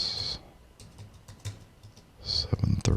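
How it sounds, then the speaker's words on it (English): Quick bursts of typing on a computer keyboard, with crisp, close keystrokes at the start, scattered taps in the middle and a busier flurry of clicks at the end. "I was just typing."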